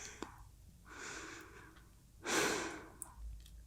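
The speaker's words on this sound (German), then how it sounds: "Ausatmen, tief atmen." Slow, deep breathing with long audible exhalations, two broad breathy swells of air, the second louder and closer, heard alone without speech.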